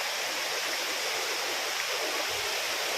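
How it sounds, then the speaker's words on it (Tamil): A small waterfall pours down in a steady, loud, unbroken roar of falling and splashing water, close by and continuous, with no voices above it. "ரொம்ப சூப்பராக அருமையாக தண்ணி விழுந்துகிட்டு இருக்கு"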